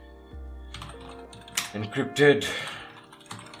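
Typing on a computer keyboard while editing a file in the Nano text editor in a Linux terminal, with a soft clatter of keys that builds into a denser burst partway through, heard under a voice.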